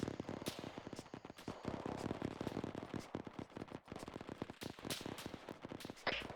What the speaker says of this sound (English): I think it's an MG on an MI8 or something.